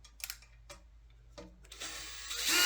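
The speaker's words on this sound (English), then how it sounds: "I got to take these screws off" Screws being removed from a Thrustmaster TPR pedal set with a power drill: a few short taps and clicks, then a rising, steady whir of the drill motor, close and alone.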